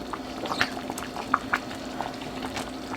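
Cheeseburger macaroni Hamburger Helper simmers in a pot, a soft bubbling with occasional pops and light stirring noises, fairly quiet and steady, with no talking.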